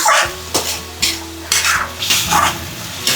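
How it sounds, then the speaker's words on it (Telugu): Fish sizzling in hot oil for a coriander fish curry, heard close and fairly loud, with repeated bursts of scraping and stirring against the pan at roughly half-second intervals and a steady frying hiss underneath. "అంతవరకు వేయించాలి."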